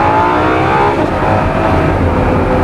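A Ferrari LaFerrari engine runs loud and close, a sustained, powerful roar that holds steady throughout with no voices.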